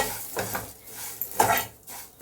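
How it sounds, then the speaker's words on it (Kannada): Vermicelli being fried and stirred in a pan for a wedding-style semiya payasa, with a metal spoon scraping and clinking against the pan in short bursts and a faint sizzle underneath. "ಇವಾಗ ನಾನು ಅದೇ ಪ್ಯಾನಿಗೆ ಶಾವಿಗೆನ ಹಾಕ್ತಾಯಿದ್ದೀನಿ"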